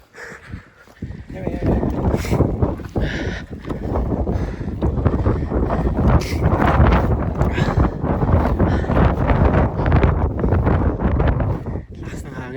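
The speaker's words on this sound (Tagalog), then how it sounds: "Lakas ng hangin." Strong gusty wind on Mount Fuji buffets the microphone with heavy rumbling roar throughout, while people talk underneath it.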